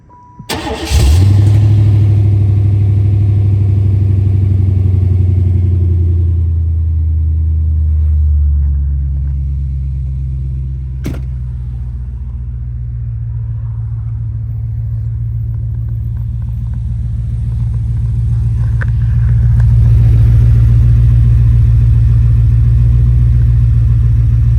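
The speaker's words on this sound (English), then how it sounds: "Still in love with the sound of the exhaust." A Chevrolet Caprice Classic with a custom exhaust starts up and idles with a loud, deep rumble that swells near the end, heard up close with no talking.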